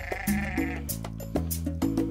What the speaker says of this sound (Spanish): Este animal es Dorper blanco y se trajo de Carolina del Norte, es puro y es registrado.